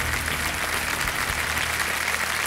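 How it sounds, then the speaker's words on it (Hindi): A studio audience on a televised quiz show claps for a young contestant, producing loud, continuous, even applause that fills the whole stretch with no speech over it. "तालियां बज जाएं इनके लिए।"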